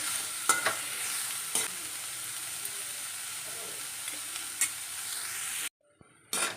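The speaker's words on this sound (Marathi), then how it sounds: "आता ही कादली मंद आचेवर परतून घ्यायची आहे" Bitter gourd sautés in a pan over a low flame, a soft continuous sizzle broken by a few sharp spatula knocks, then it briefly cuts out before resuming near the end.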